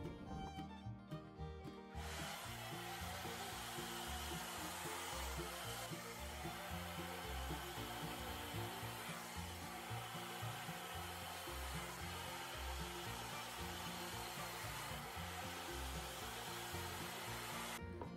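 A hair dryer blow-drying hair at home switches on after about two seconds and runs with a steady, close whooshing roar, its airflow shifting slightly as it moves through the strands.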